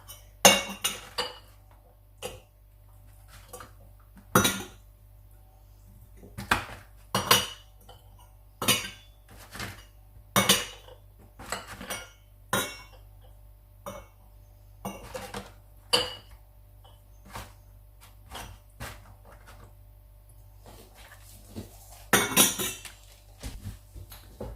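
Beef stew is ladled into glass jars, with sharp clinks and knocks of the ladle against glass and metal coming in irregular bursts over a quiet background.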